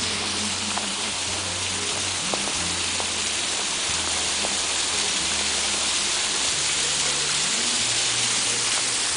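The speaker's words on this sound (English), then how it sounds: "Check out this waterfall." A waterfall on the drive to Mount Rainier in Washington roars as a loud, steady, broadband rush of falling water that fills the whole stretch without a break, heard close up and alone.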